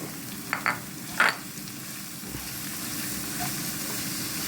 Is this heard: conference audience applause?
no